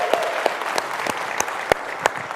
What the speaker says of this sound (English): I would like everyone to give a round of applause to the EMAR Super Meeting Committee